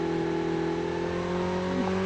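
A vehicle engine in the Call of Duty Mobile battle royale drones steadily while driving, a constant mid-pitched hum with a faint whir and no voices.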